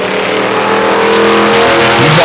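Race cars, a Chevrolet Camaro against a Ford Falcon, roar at close range on a motorsport circuit, a loud, continuous engine drone rising in pitch as they accelerate, with a brief tire squeal near the end.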